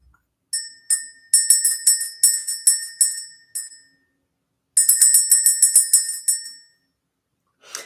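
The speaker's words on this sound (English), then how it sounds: "Let's ring the bell." A small, high-pitched bell is rung to clear energy in a spiritual ritual. It gives a run of quick bright strikes, pauses, then rings in another rapid burst, loud and close with no talk.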